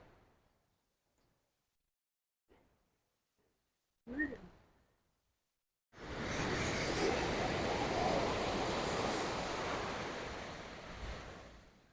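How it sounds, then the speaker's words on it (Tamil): Waves at Kalpakkam beach, starting after a few quiet seconds with faint bumps: a loud, steady wash of surf with wind blowing across the microphone, continuing to the end. "இது கல்பாக்கம் பீச்"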